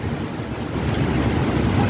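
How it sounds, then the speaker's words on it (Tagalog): Strong wind with rain sweeps through trees over an outdoor grilling spot, a steady broadband roar that swells slightly and holds loud throughout, with no voices. "Ayan, lakas pa ng hangin."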